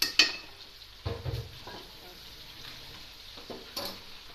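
Spices with salt and cumin are stirred and fried for chicken biryani, with a few sharp spoon knocks against the pot over a soft, steady sizzle.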